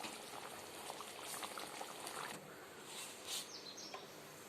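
Dried anchovy fish curry bubbling in a pot on the stove, a continuous soft boil with light popping and gurgling from the surface, close and fairly quiet.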